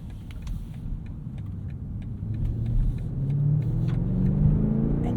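A 2023 BMW Alpina XB7 SUV powers out of corners, its engine a deep rumble that swells steadily as it accelerates, heard from inside the cabin with faint clicks over the top.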